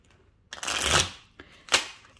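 Divination cards are shuffled in two quick bursts, a longer riffle-like rush followed by a shorter one, close and crisp with brief pauses and no talking.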